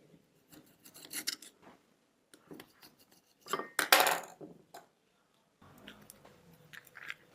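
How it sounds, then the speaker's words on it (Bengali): A knife cuts goja dough into square pieces, giving irregular clusters of short scraping, crunchy cuts separated by brief silences, close and fairly quiet. No one speaks. "এবারে আমি এটাকে চৌকো চৌকো করে কেটে নিচ্ছি"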